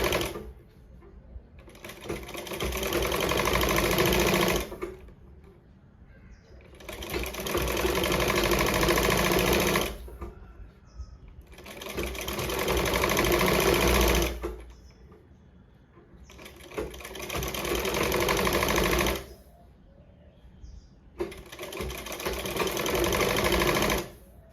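A sewing machine stitches piping onto a jacket in five long bursts of fast, steady whirring, each lasting several seconds, with short quiet pauses between them, close and loud.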